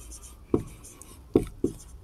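A pen scratches and taps on a surface during a class 10 math lesson, with short, distinct strokes and clicks spaced irregularly against a quiet room background.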